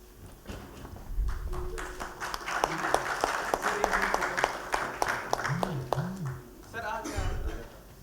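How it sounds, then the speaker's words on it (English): Applause from an audience at a national logistics summit in Delhi, many hands clapping steadily for several seconds in a hall, with a voice speaking over part of it and background murmur. "Please give them a round of applause."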